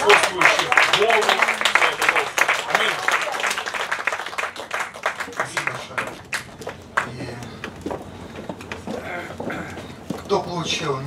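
Loud congregation applause during a church service, dense clapping that gradually thins out into scattered claps.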